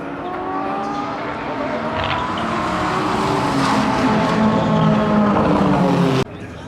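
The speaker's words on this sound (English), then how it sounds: "Seems like there's a few old cars on the track now." Old cars run on the Fuji Speedway track during the NISMO Festival, their engines droning loudly and continuously close by, with a brief tyre squeal, before the sound cuts off abruptly near the end.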